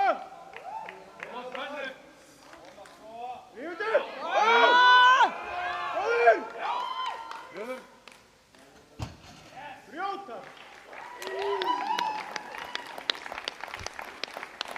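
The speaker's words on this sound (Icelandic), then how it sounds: "Koma svo áhorfendur, láta nú í okkur heyra." Audience at an Icelandic powerlifting championship applauding and cheering for a lifter, bursts of clapping and shouts swelling mid-clip and again near the end, mixed with an announcer talking over the hall.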